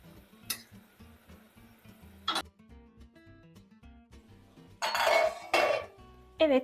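Metal pot lid clinking and settling onto a cooking pot of Turkish meatballs in water, a few sharp clinks and scraping clatters, close but fairly quiet, otherwise near silence.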